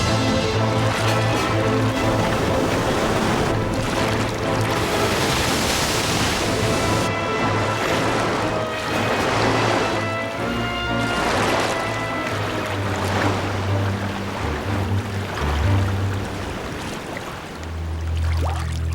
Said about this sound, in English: Battered by the wind and waves